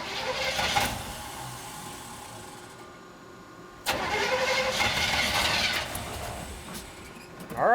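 A Gandrud Chevy long-block V8 in a Squarebody Chevy truck cranks briefly, pauses, then catches and fires up, settling into a steady, loud running note close by before a sharp rise at the end.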